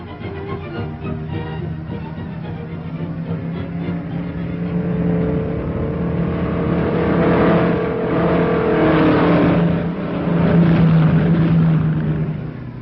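Race cars, including one with a blown tire heading toward the pits, roar around a racetrack in a 1941 auto-racing scene, a steady loud engine drone that swells and surges as cars pass, with music mixed underneath.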